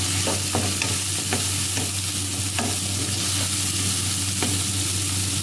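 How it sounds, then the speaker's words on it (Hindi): Garlic ginger paste fries with onions in a pan for masala bhindi, a steady loud sizzle broken by occasional scraping stirs, close and continuous with no talking. "तो हम इसको थोड़ा सा फ्राई कर लेंगे लहसुन"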